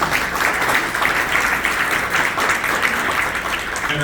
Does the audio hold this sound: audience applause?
yes